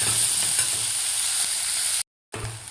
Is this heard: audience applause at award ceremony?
no